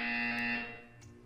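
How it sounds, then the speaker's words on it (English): A loud electronic buzzer from the video game Portal 2, sounding as one sustained harsh tone that fades slightly toward the end. "You will hear a buzzer. When you hear the buzzer, stare at the art."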